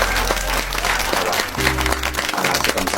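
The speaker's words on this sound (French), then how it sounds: "On va applaudir pour les éliminer." Applause from a small group marks the football teams eliminated before the 2025/2026 Champions League play-off games, brief clapping over a low background hum, with a steady tone entering partway through.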